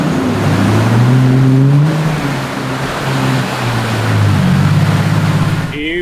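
A 4WD with a new 1HZ engine grinds along a red clay track, a loud, steady low engine drone that rises and falls with throttle, rough rumble throughout and no talk.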